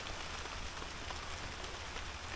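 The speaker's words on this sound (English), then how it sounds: "this is that rain just like... Just like a hangout." Steady rain falls outdoors during a public-land turkey hunt in Florida, a dense, even hiss of drops with no voices over it.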